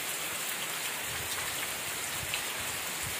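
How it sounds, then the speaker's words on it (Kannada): Heavy rain pours down steadily outside a house, a dense, continuous hiss of drops drumming on surfaces, loud and close with no voices. "ಈ ಥರ ಮಳೆ ಹೊಡಿತಾ ಇದೆ."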